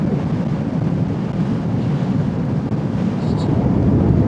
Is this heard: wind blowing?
yes